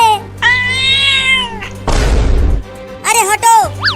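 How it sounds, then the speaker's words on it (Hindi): A cat meows loudly and repeatedly with long drawn-out cries, broken by a burst of thumping noise in between, in a comic scene where a big house cat chases someone. "उस बिल्ली के घर में एक बड़ी बिल्ली भी रहती है, अब वो मेरे पीछे पड़ी हुई है।"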